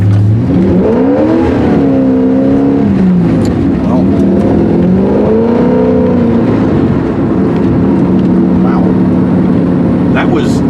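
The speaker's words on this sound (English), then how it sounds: "Effortlessly spinning both tires." A carbureted LS V8 swapped into a Porsche 944 revs hard while spinning both tires, its loud engine note rising and falling in repeated sweeps over a constant rumble close by.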